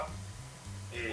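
Garlic frying gently over low heat in a pan gives a soft, steady sizzle that stays faint under a low background hum.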